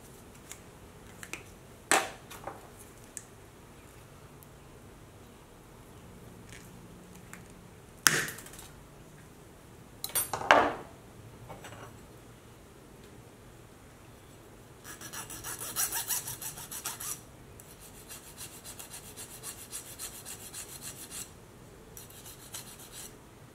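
Small aluminum rod pieces being cut and cleaned up: a few sharp isolated scrapes and clicks spread over quiet stretches, then a burst of rasping filing, close and fairly faint.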